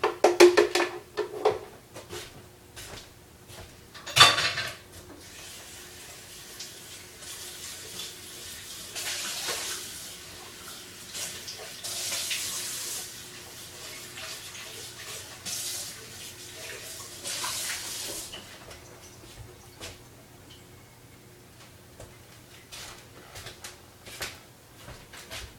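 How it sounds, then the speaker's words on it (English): A blender is rinsed out at a kitchen sink: running tap water splashes and hisses in uneven bursts, with a sharp knock or clatter early on, then the flow softens and trails off toward the end. "We're going to rinse out the blender real quick."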